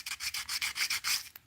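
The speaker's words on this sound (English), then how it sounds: "So now it's just a lot of sanding on the diving lip." An abrasive sanding stroke works back and forth over the diving lip of a handmade musky crankbait lure, seven or eight quick, even rubbing passes close up with no talk.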